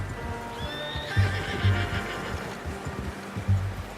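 A horse in the Red Dead Redemption 2 video game whinnies once, a long rising-and-falling neigh, followed by a few heavy hoof thuds and snorts close by, with no talk.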